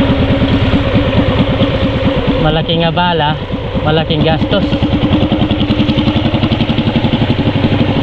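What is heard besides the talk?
single motorcycle engine idling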